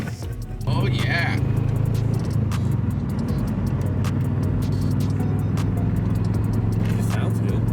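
Subaru Impreza GC8 wagon on its first drive, engine droning steadily as it pulls away and accelerates gently, close and continuous, with people talking over it throughout.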